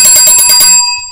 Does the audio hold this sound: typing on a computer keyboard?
no